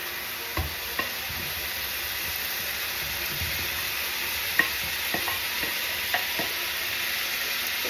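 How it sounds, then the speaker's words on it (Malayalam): Pieces of already fried pork go back into a pan of hot oil and water, making a soft, steady sizzle and hiss with occasional stirring clicks. The sound is moderately quiet and continuous, and nobody speaks. "വറുത്ത് വെച്ചേക്കണ പോർക്ക് വീണ്ടും ഇതിലോട്ട് ഇട്ട് കൊടുക്കാം"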